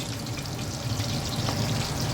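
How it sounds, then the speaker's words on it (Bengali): Fish fries in a pan with oil, giving a steady, fairly soft sizzle and crackle that runs continuously without interruption. "মাছগুলো ভাজার সময় স্মেল নিতেই বোঝা যায় যে মাছ কতটা ফ্রেশ"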